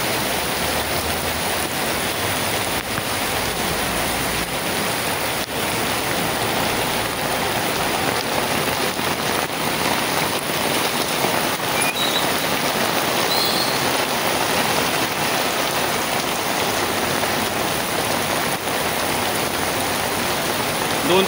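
Heavy monsoon downpour on Grant Road near the station in Mumbai, a dense, unbroken hiss of rain pouring down steadily for the whole stretch with no voices.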